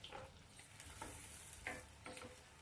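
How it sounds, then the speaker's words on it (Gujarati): Finely chopped medium onions frying in oil for Chana Masala, a soft steady sizzle broken by a few brief stirring scrapes, faint and close with no voices. "હવે ડુંગળીને આપણે 4 થી 5 મિનિટ માટે સરસ એકદમ એ ગોલ્ડન કલરની ના થાય ને ત્યાં સુધી શેકવાની છે તેલમાં"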